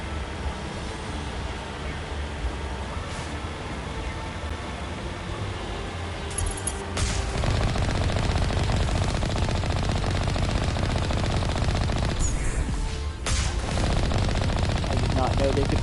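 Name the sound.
enemy gunfire in the video game Mass Effect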